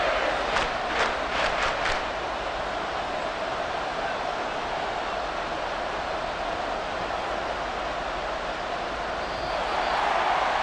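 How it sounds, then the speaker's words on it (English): Stadium crowd at an American football game roaring in a steady, dense wall of noise late in a close fourth quarter, with a few brief higher bursts near the start. "This crowd turning up the decibel level."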